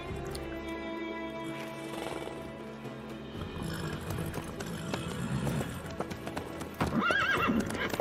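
Horse hooves clip-clop steadily in the video game The Witcher 3, with a rhythmic trot under a music bed and a horse whinny near the end.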